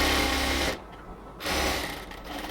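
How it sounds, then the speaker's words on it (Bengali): Sewing machine stitching a luxury cotton ladies' pant, a loud close motor whir running steadily, stopping briefly for about half a second, then resuming at full speed, no talking. "আমরা উপর থেকে এবার নিচ পর্যন্ত স্টিচ করে নেব"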